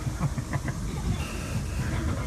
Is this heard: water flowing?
no